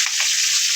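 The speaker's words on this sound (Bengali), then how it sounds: "এখন এই যে সেমাইগুলো, নুনের সেমাইগুলো সব দিয়ে ঘিয়ের ভিতরে ভেজে নেব।" Vermicelli frying in ghee with garam masala makes a brief, close, steady hiss and crackle of sizzling.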